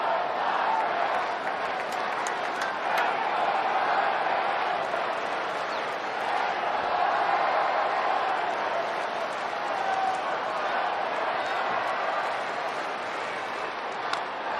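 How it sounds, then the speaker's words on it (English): A baseball stadium crowd at a Reds versus Padres game roars steadily, a dense continuous wash of cheering and applause with faint scattered voices throughout. "Crowd loving it."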